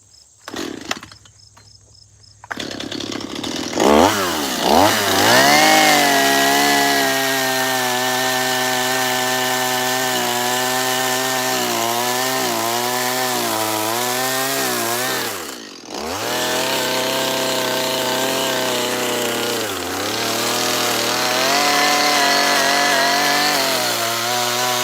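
A chainsaw fitted with a carving bar cuts into wood to shape a bear carving, its loud engine rising and falling in pitch through long cuts, with a brief pause midway.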